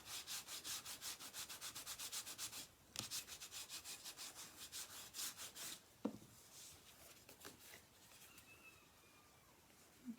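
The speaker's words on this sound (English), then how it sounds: "Let's give that a burnish." A stamped image on paper is burnished by hand: quick rhythmic rubbing strokes, close and soft, repeating steadily before a few slower rubs and a light knock.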